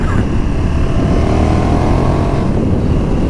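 A 2019 KTM 1290 Super Duke R roars loudly and close while being ridden down a street, a thick, continuous engine drone with no pauses.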